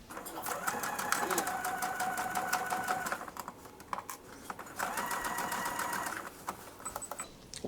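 A sewing machine stitches a dart from the raw edge toward the point in two steady bursts of rapid, rattling needle strokes, separated by a brief pause, moderately close and fairly quiet.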